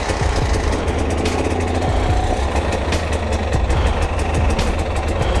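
A motorbike engine runs steadily and loudly close by, a dense, rough, continuous rumble with rapid pulsing throughout and no talking over it.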